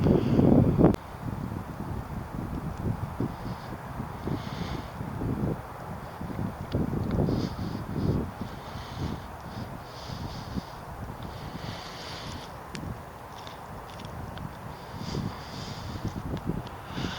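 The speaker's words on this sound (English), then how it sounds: "Bit of a wind getting up." Wind gusts across open moorland on a cold day, a steady broadband rush with low rumbling buffets against the microphone that swell and ease throughout, heard alone with no voices.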